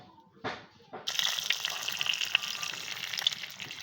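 Tomato and egg frying in a pan: after a couple of faint knocks, a steady close sizzle starts abruptly and continues with small crackling pops, moderately quiet.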